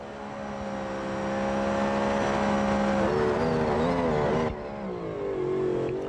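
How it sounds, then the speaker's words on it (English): GT race car at full throttle through Blanchimont at Spa in a racing video game, a sustained loud engine drone rising in pitch, shifting once before dropping sharply near the end. "We got Jamie just currently pushing his car out through Blanchimont."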